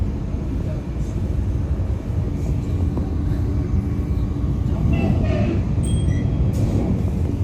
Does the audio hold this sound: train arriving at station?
yes